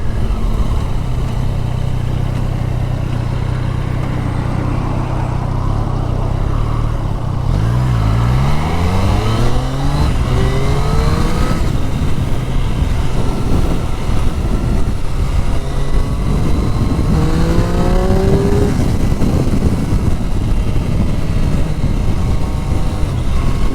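A Triumph Street Triple RS motorcycle accelerates on a demo ride, its engine note climbing through the gears in rising sweeps beneath a steady roar of wind noise.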